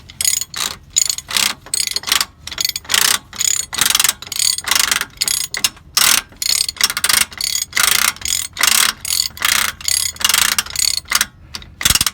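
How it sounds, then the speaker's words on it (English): Ratchet wrench tightening the drive axle nut on a 1984 Wanderlodge coach, a loud close series of rapid clicking bursts in steady back-and-forth strokes, repeating about twenty times with no talk. "So this is that special little thing it kind of ratchets."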